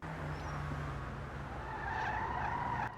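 Karin Vivanite car in GTA V Online spinning its front wheels in place, a steady gritty tire screech with a rising whine over continuous engine drone, loud and close throughout.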